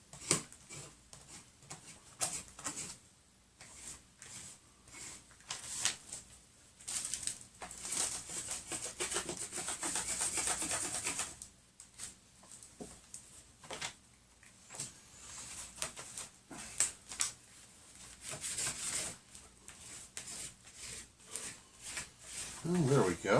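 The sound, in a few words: scraping dried beef broth off a jelly tray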